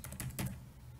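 Quick, quiet keystrokes on a computer keyboard, a handful of soft clicks in a brief burst.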